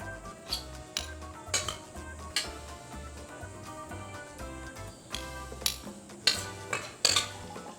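A lentil salad with crumbled feta cheese is stirred in a bowl, producing close, repeated clinks and scrapes of a utensil against the dish in an irregular rhythm, with no talking.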